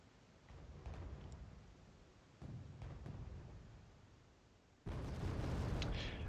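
Booming mortar fire in the real-time strategy game Wargame: Red Dragon, three separate heavy rumbling blasts, each swelling and fading, the last one loudest and harsher, with no voices.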